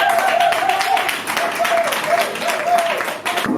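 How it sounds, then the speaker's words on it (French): A room of standing attendees at the Afric Conseils Group company presentation applauds the deputy director general. Even, continuous clapping runs throughout at moderate level, with a faint steady tone underneath. "Messieurs, s'il vous plaît, on se lève pour applaudir pour le directeur général."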